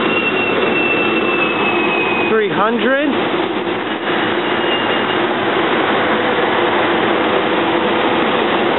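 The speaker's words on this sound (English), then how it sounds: "Oh, this is an express train." An R3 West Trenton express commuter train, rail cars 409 and 300, passes at Bethayres in a loud, continuous rumble with a brief horn-like sweep partway through, and someone speaks briefly over it.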